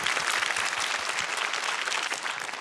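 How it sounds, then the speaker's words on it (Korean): A studio audience on a KBS Korean talk show claps in warm, steady applause, dense overlapping hand claps at moderate volume throughout the short stretch. "박수 한번 보내주세요"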